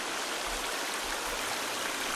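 Steady, even rush of falling water from a waterfall in the survival video game The Forest, a continuous broadband roar with no voices over it.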